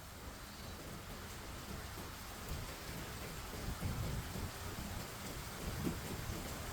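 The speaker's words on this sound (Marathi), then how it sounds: "काय पाऊस आला" Heavy summer rain with thunder and hail, a dense constant roar of downpour with low rumbling thunder swelling through the middle and later parts, fairly distant and no talking.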